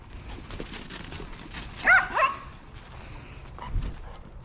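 Several dogs bark in short bursts, with two loud barks near the middle and another toward the end, over a steady background hum in a garage-like space during an LSA engine drag-and-drive car build.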